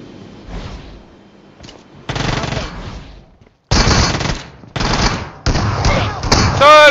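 Bursts of Uzi submachine gun fire from a mobile shooter video game ring out in several loud, separate volleys with short gaps between them, including one quieter early burst, followed by a rising electronic effect.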